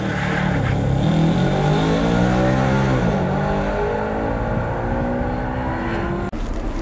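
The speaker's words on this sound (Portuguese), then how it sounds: "eu acho o escapamento da RS4 um pouco mais grosso que dos outros modelos" An Audi RS car with an open exhaust revs hard, a loud continuous engine note rising and falling in pitch close by, then cutting off abruptly near the end.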